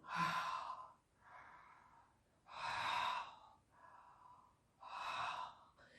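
Three slow, deep breathing cycles during a guided breathing exercise, each a loud, long breath drawn in and released, separated by softer breaths, close to the microphone with no talk.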